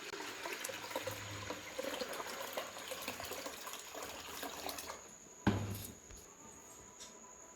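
Water poured onto rinsed toor dal and moong dal for sambar makes a faint, steady splashing pour that ends with a sharp clunk, followed by quiet residual trickling.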